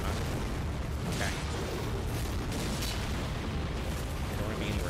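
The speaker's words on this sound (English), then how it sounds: "Get away from the explosion." Explosion in the video game Elden Ring, set in a city of ash: a loud, sustained, broadband rumble with crackling bursts that fills the whole stretch, with no speech over it.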